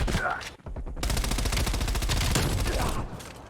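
Rapid automatic gunfire from a video game shooter, a dense continuous burst of shots after a brief pause, loud and close, with no voice over it.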